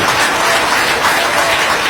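Loud, dense applause from an audience at a World Teachers' Day gathering at a college, continuous and close for the whole stretch with no other sound.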